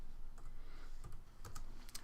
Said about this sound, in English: I type in Lou, not Lulu, Lou